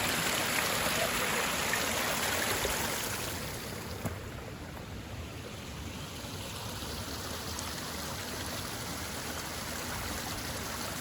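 River water streaming steadily while crossing a river on foot between rice fields in rural Cilacap, a continuous close broadband rush that eases slightly after a few seconds, with no voices.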